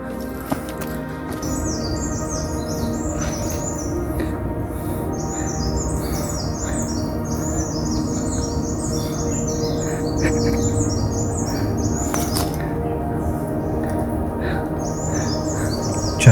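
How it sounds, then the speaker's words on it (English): Birds chirp in a forest bird sanctuary near Mumbai, with repeated bright, rhythmic call phrases from one bird over steady ambient forest noise, plus occasional squawks. "chirping of birds were making rhythmic sound waves, which was bliss for ear"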